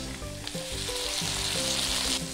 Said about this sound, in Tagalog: Sunod ay igigisa ko na ang bawang, sibuyas, luya, at kamatis.